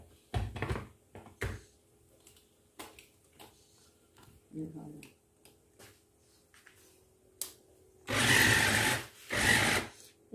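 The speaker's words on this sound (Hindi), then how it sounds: "अब इस चॉपर में मैं डालूंगी और इसको चॉप कर लूंगी" Electric chopper mincing boneless chicken for shami kebab, run in two loud whirring bursts near the end after scattered clicks and handling knocks, with someone speaking earlier.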